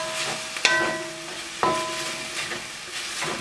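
Thai basil chicken frying in a pan over high heat, a continuous close sizzle punctuated by a couple of sharp clanks of a utensil against the pan as it is stirred.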